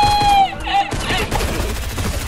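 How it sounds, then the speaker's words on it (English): Rapid bursts of gunfire in the Fortnite video game, a loud volley of shots with a brief ringing tone at the start, followed by continuous crackling battle noise. "How did I not hit any single shot on that guy?"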